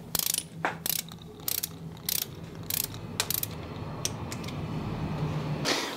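A ratcheting torque wrench tightens camshaft bolts on a first pass to 4 Nm, giving short bursts of rapid, close clicking separated by brief pauses, fairly quiet and with no talking.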